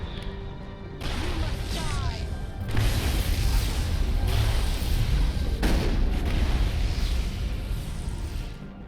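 Heavy booming gunfire and mechanical clatter from sniper enemies in the Mass Effect game on the icy world Noveria, dense and loud throughout with a steady rumbling bed of battle noise.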